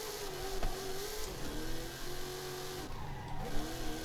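A poor drift car in Forza Horizon 5 revs and spins its wheels, engine note rising and falling in repeated surges with tire squeal, loud and continuous throughout with no talk.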